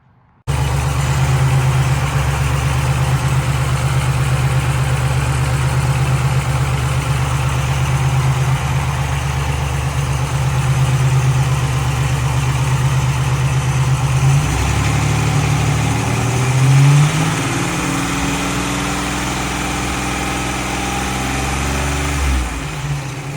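A Buick Grand National engine idles steadily with a deep, even hum, close and loud, while its AC compressor, low on Freon, cycles; the tone shifts partway through as the load changes, and no one speaks.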